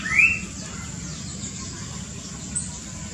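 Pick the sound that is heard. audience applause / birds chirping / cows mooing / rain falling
birds chirping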